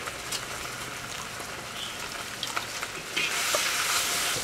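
Hot oil poured over chili seasonings for mouthwatering chicken, crackling and sizzling steadily and swelling louder near the end.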